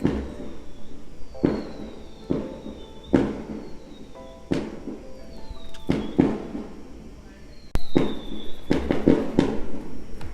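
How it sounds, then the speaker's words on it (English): Fireworks set off by a neighbor crack and bang outside in a string of sharp, irregular pops, some sounding close and loud, others more distant, with faint whistling between the bursts. "My neighbor is lighting fireworks, so I clearly need to wrap this up."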